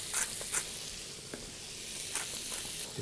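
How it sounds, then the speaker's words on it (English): Ham frying in butter and tossed in a pan for a pea and bacon risotto, a steady close sizzle with a few scraping stirs and light clatters of the pan. "in with your ham, give that a toss"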